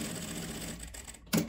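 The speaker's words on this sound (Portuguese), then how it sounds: "Vou ligar daqui até aqui que vou passar uma costura. Dá um retrocesso." Sewing machine stitching a seam on a fabric bag, with a short reverse backstitch: a steady mechanical whir for about a second, a brief pause, then a louder burst of stitching near the end.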